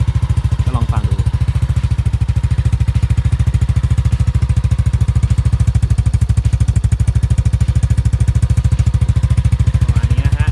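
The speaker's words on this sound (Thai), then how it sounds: "ธรรมดาก็จะเป็นอย่างนี้นะฮะเสียงเครื่องยนต์ปกติก็ลองฟังดู" A 2020 Yamaha N-Max 155 scooter fitted with an aftermarket exhaust idles steadily up close, giving a loud, even low thrum with a rapid regular pulse that holds for the whole stretch.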